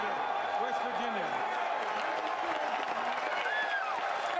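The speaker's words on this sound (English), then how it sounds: "Listen to this crowd." A large crowd at the 2015 NFL Draft cheers and claps in a steady, distant roar that holds level throughout, with voices and occasional shouts blended into the wash of noise.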